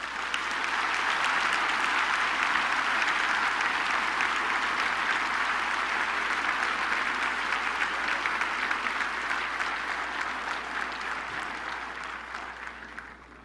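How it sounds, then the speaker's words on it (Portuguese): A church congregation applauds the Lord in a Portuguese-language service, a loud, sustained roar of many hands clapping that holds steady for a long stretch before slowly tapering off. "Você pode dar ao Senhor um forte aplauso."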